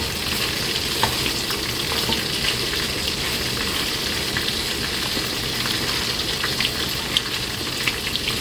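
Rice for riz gras sizzles steadily in a pot as it is turned over during cooking, a dense, even frying hiss with small scraping ticks from stirring, close and continuous with no talk.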